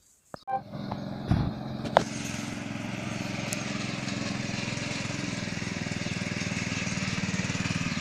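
A Forte walk-behind tractor engine runs steadily while hilling potatoes in a field, a loud continuous close-up drone after a brief start-up clatter, with no pauses across the clip.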